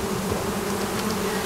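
Local honeybees hum steadily around a hive on a hot, fair day, a dense continuous buzz close by with no pauses and no voices.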